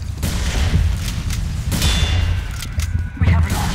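Gunfire and explosive thumps from the Team Fortress 2 video game on a crit server, a dense, continuous barrage of shots and booms filling the clip, with voices talking over the game noise.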